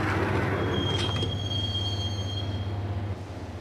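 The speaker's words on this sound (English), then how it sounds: "the train doors had already shut behind me, and I was in for the ride" Train ride in the video game Max Payne: a steady low rumble of a moving subway car with a thin sustained wheel squeal, fairly loud and continuous, easing slightly near the end with no talking.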